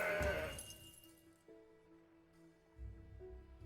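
A bleating goat call from the Mountain Goat card in the Legends of Runeterra card game, a short wavering bleat with a few tonal game chimes, no talk.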